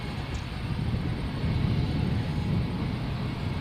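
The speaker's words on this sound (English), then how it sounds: "NZ278 from the Gold Coast, an A321 Neo." Airbus A321neo airliner on flight NZ278 from the Gold Coast, heard as a steady, broad engine roar with a low rumble, moderately distant and unbroken, without speech.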